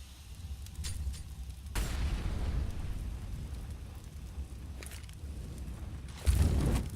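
A Molotov burns during a CS:GO PGL Major Qualifier match, giving a crackling, rushing roar with sudden bursts and muffled booms, moderately loud and continuous.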